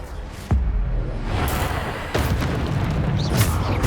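Deep booming spell impacts from Depulso and Descendo casting in the Hogwarts Legacy video game, two or three heavy thuds with whooshing bursts over a busy game background.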